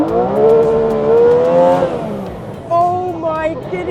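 Tuthill Porsche 911K engine revving toward 11,000 RPM on a straight tarmac road, a loud rising harmonic whine that climbs, drops at a gear change, then pulls again, heard close from inside the car.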